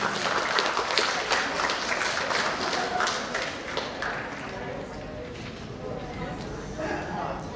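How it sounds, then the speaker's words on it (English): Audience applause for a professor at a conference plenary session, a burst of clapping that thins over several seconds while a voice talks underneath. "please give a big round of applause for Professor Inseop Shin"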